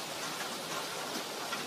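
Rain falls in a steady, even hiss of many small drops, continuous and fairly soft throughout with no voices.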